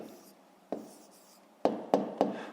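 A pen writes the answer to a math exercise in quiet, scratchy strokes, one faint stroke followed by three sharper taps near the end.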